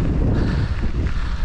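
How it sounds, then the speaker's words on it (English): Outdoors on a cold, windy day at Stromlo in Canberra, gusts buffet the microphone with a continuous low rumble that stays loud and unbroken throughout. "It's freezing. It's windy."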